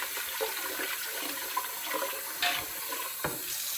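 Water runs and splashes as rice is rinsed in a pot and the cloudy water is poured off, with intermittent trickling, pouring and a few sharp clinks, close by and without talk.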